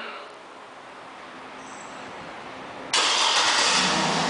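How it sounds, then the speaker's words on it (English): A 2007 Cadillac Escalade ESV AWD fires up by remote start; after a quiet stretch of faint background, the engine catches abruptly and settles into a loud, steady near idle roar. "One of the many features in this vehicle is a remote start"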